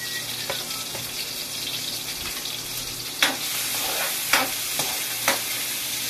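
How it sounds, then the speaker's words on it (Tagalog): Bitter gourd (ampalaya) with onion and garlic sautéing in a pan, a steady sizzle broken by a few sharp scraping stirs of the spatula near the end. "Luto tayo guys na ginisa na ampalaya."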